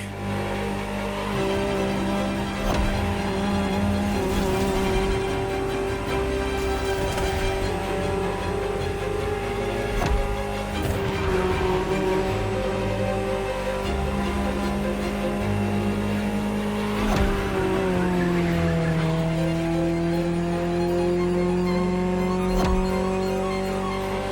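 A high-revving Ferrari supercar engine in the racing game The Crew Motorfest roars continuously, its pitch climbing and dropping through gear shifts, with steady loud drone and a synthetic game-like quality.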